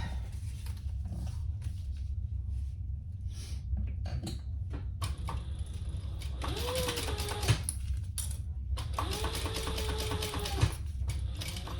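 A sewing machine runs in two slow bursts stitching a gusset seam, a close whirring motor with rapid mechanical ticking over constant low background noise.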